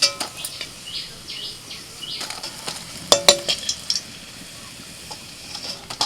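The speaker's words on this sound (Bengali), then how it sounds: "লাল করে একটু ভেজে বড়াগুলোকে তুলে নিচ্ছি" Pointed gourd fritters fry in a pan of oil, a light steady sizzle broken by sharp clinks and scrapes of a utensil turning and lifting them, several distinct clatters near the middle.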